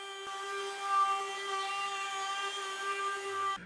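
High-pitched steady whine of a spinning router or similar power tool rounding over the edges of a red oak base, loud and close, running continuously before cutting off.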